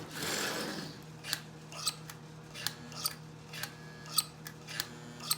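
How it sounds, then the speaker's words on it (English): A Marx Commodore Vanderbilt toy train's E-unit cycles with a series of faint, sharp mechanical clicks spaced about half a second apart, following a short burst of rustling handling noise. "Well, I can hear the E unit cycling."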